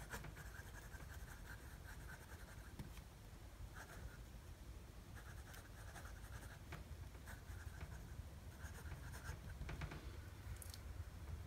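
A fountain pen with a stub nib scratching across paper in short, faint strokes and pauses, a quiet close-up rasp of handwriting with no voices.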